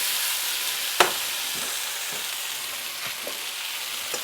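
Potatoes frying in a pan give a steady, close hiss of sizzling oil, with a few soft scrapes and taps as they are stirred.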